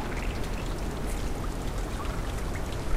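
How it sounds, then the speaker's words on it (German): Steady rain and pouring water in the game Limbo make a dense, even hiss with faint dripping, continuous and unbroken throughout. "Und draußen fängt es an zu regnen"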